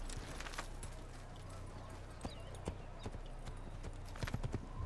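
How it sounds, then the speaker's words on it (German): A white horse in Assassin's Creed (2008), ridden through Damascus, gives off quick, rhythmic clip-clop hoofbeats that stay fairly close and fairly quiet over a low ambient hum. "Wir nehmen wir das gute alte weiße Pferd."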